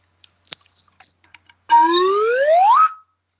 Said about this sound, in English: Was there a louder beep there for a second?